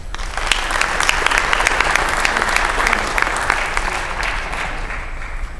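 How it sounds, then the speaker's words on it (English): An audience at a staff inservice keynote gives a loud, full round of applause, dense crisp clapping with a few sharp standout claps, swelling early and then tapering slightly over nearly six seconds. "Could we try those applause again?"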